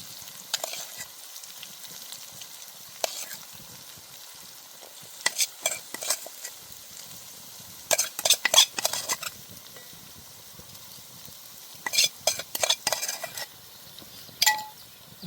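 A spoon stirs stuffed okra coated in masala in a pan, giving intermittent scraping and clinking bursts over a soft, low background sizzle.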